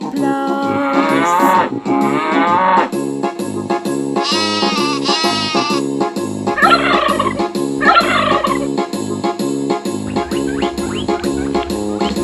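A loud, busy farmyard mix of animal calls from a cow, sheep, turkey and hare, with gobbling and mooing in turns over a steady rhythmic backing beat, all close and prominent.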